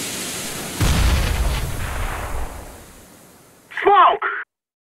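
A grenade goes off in Counter-Strike during a competitive match, a single loud boom with a decaying rumble, followed by a short radio voice callout.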